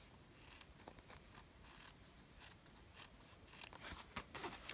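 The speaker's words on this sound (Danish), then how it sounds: "Og så klipper jeg lige buen ned igen, for at sømmerummet ikke må ligge og fylde." Scissors snip fabric seam allowance on a shirt being sewn, trimming the curve down, with repeated soft crisp cuts in a steady rhythm, close by and fairly quiet, no talking.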